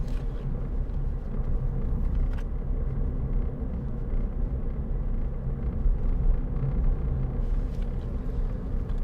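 A 2010 Ford Fiesta 1.4 Titanium five-door cruises on a test drive, heard from inside as a steady, continuous low road and engine rumble with no speech.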